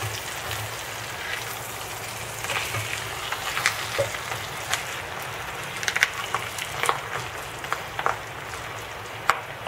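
Chicken quesadillas frying in a pan give a steady low sizzle and crackle, with scattered pops and faint scraping throughout and no voices.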